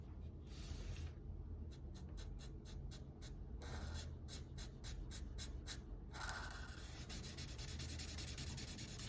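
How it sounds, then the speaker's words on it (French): A Sharpie felt marker colours in black areas on drawing paper, making steady rubbing strokes with quick rhythmic bursts in the middle, close and fairly quiet over a constant low background hum. "avec un feutre Sharpie, on vient colorier tout ce qui doit être en noir."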